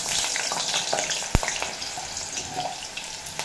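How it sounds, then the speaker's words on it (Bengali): Potatoes hit hot mustard oil in a pan and fry with a steady, close sizzle, one sharp clack near the start of adding them, and no voices over the crackle. "তেল গরম হয়ে গেছে, এই তেলেই দিয়ে দেব আলু।"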